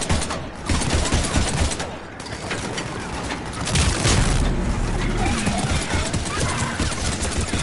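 Gunfire in Mass Effect, rapid volleys of shots and booms in a dense firefight, loud and close, with voices calling out over the shooting.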